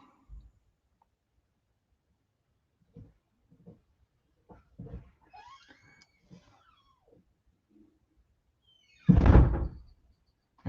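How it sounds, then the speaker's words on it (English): A front door closes in a house with a protective dog, landing as one loud, close thump after several seconds of quiet, scattered small knocks and movement sounds. "And that was the front door closing."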